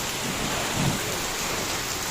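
Heavy rain pours down steadily on a rooftop, a dense continuous roar with a faint low rumble partway through, no voices.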